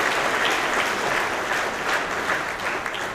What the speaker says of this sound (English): give yourselves a big round of applause for every one of you